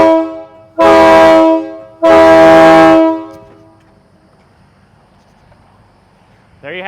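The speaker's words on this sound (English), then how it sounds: "We've got our K3 train horns installed." Two loud, sustained chord blasts from K3 train horns fitted to a Peterbilt semi truck, each about a second long, fading into a quiet idle-like rumble afterward.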